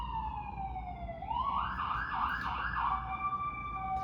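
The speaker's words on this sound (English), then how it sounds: "Sorry about the ambulance." An ambulance siren passes outside, its pitch rising and warbling loudly for several seconds over a steady low traffic rumble, with no one speaking.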